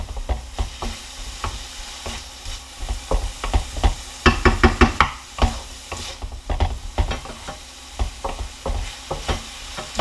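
Pork and mushrooms stirring and sizzling in a hot pan, cooking until they release their liquid, with steady close frying hiss and repeated scraping strokes of a utensil throughout.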